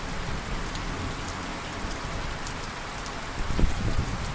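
Heavy rain falls in a thunderstorm, a dense, even hiss of drops on surfaces with a few closer splashes and knocks near the end, no voices.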